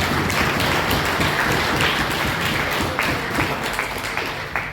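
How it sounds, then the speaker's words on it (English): Sustained, dense applause from an audience at a gala dinner and awards banquet, with steady clapping throughout at a fairly even level. "And clap them."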